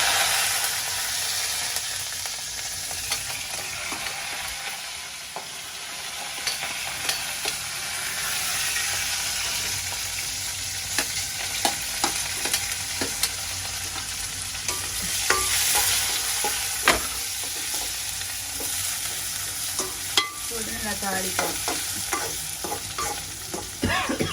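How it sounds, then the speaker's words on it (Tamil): Fenugreek, green chillies, onion and curry leaves sautéing in a hot pan give a loud, continuous sizzle with repeated spoon scrapes and stirring knocks, close up and without speech. "நல்லா வதங்கட்டும்"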